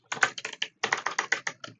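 Rapid clicking keystrokes on a computer keyboard, two quick runs of sharp, close taps separated by a short pause.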